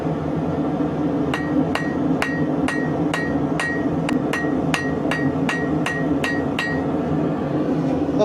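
A big hammer strikes hot metal being flattened for coat hooks, about a dozen sharp ringing blows at a steady, even rhythm over a constant background roar, probably a forge, close and loud.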